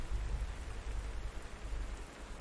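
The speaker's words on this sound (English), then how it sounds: "Also, the refreshing sound of rain." Steady rain in the strategy game Panzer Corps 2, a soft continuous hiss with low rumble, even and unbroken throughout with no talking.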